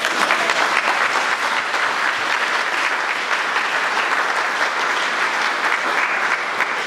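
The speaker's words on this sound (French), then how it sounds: "je pense que ça mérite des applaudissements" A meeting audience applauds after introductory speeches, producing loud, dense, steady clapping that holds evenly for about seven seconds with no voices over it.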